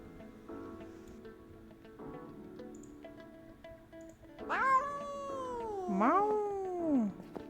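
A cat in the animal shelter simulation game Animal Shelter 2 lets out two drawn-out, loud meows over light background music, the second rising then sliding down.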